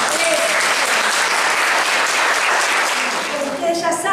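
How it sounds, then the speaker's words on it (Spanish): Loud, dense applause from an audience at the opening of a summer programme for older adults, continuous clapping filling the room, with voices calling out and chatter mixed in toward the end. "un aplauso para ustedes"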